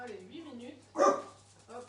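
A dog gives one short bark in a kitchen near a microwave's steady hum, while a person talks before and after.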